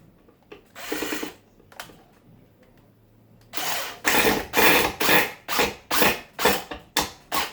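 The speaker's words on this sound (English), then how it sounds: "These are some powerful drills" A powerful power drill bores into wood for a floating nightstand build, first in a short burst, then in a series of about eight loud, rhythmic pulses as the bit bites deeper, close and without talk.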